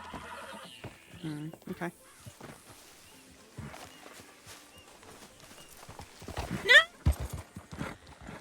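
Horse neighing and hoof clip-clop in a Red Dead-style western roleplay game, with a short whinny and hooves thudding near, partly under voices talking.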